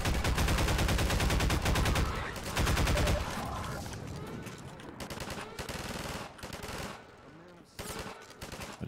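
Gunfire in Half-Life 2, dense loud bursts of automatic weapon fire at first, then scattered shots and combat noise that continue more loosely and slightly softer.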